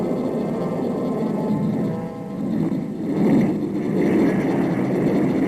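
A de Havilland Sea Venom jet on landing approach with wheels and flaps down, a distant, steady engine roar that swells slightly toward the end.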